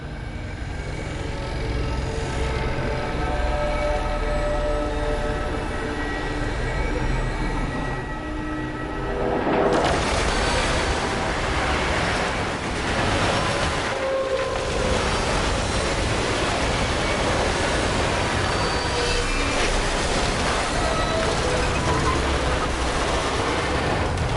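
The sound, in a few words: train passing in the video game Destiny 2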